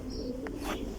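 A racing pigeon coos softly after landing at a pigeon club loft, a brief low throaty call over faint background noise.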